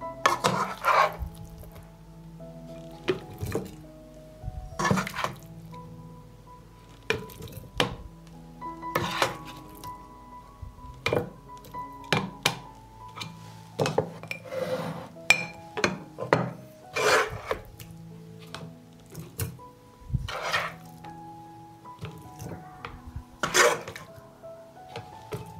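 Glass jars being cleaned and handled before being filled with meat, with intermittent rubbing, scraping and clinking knocks of glass, close and irregular, separated by quiet pauses, no talking.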